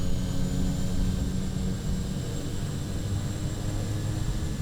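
A Kodiak aircraft in Microsoft Flight Simulator 2020 taxis to parking, its engine a steady loud droning whine that holds evenly throughout, with no talking over it.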